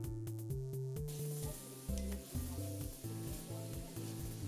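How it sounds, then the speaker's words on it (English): Greens wilt in a hot pan for a Guinean okra sauce as they are stirred, giving a steady close sizzle with scraping strokes of the spoon beneath a layer of humming background music, with no talking. "stir it around and let it wilt a little bit"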